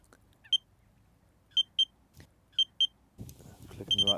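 Short, piercing electronic beeps from a TFGEAR Dave Lane Mag Runner fishing bite alarm sound one after another, with gaps between them, followed by a faster run of beeps at the end, mixed with some handling noise.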